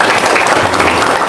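An audience claps in steady, dense applause, loud and close throughout the short burst, with no clear voices standing out.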